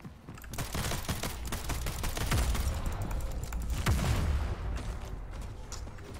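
Rapid bursts of automatic gunfire from a Splitgate multiplayer shooter match, dense clattering shots swelling and fading over several seconds, fairly close, with no talking.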